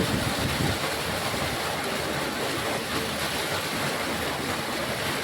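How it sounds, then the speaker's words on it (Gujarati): A continuous, loud rush of water gushing from a pipe into a well, steady and broadband like a strong flow pouring and splashing, with no voices. "આખો બંબો ભરાઈને આવે છે, બે બંબા ભરાવે છે।"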